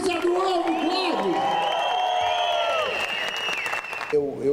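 A comedy show audience claps and cheers for Diogo Portugal's character Zé do Ovo: a short burst of clapping mixed with shouted whoops that cuts off abruptly near the end.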